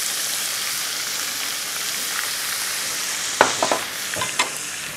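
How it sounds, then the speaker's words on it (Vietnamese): Chicken pieces sizzle steadily in hot oil, a constant crackling hiss, with a few stirring scrapes and clinks toward the end. "chúng ta chiên vàng những miếng gà này"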